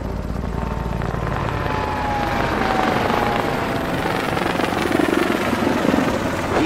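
A helicopter approaches to land on the Bajaj helipad, its rotor and engine making a loud, steady, close thrumming drone that holds throughout with no voices.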